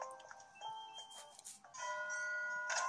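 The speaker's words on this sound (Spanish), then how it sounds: "Y están sonando las campanas." Bright, sustained bell chimes ring out in the video game Animal Crossing: New Horizons, layered tones sounding over game music with no talk, steady and moderately loud throughout.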